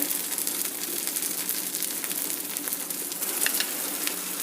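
Butter masala dosa frying in generous oil and butter on a hot pan, giving a steady, close, dense sizzle with crackling pops throughout and no voices.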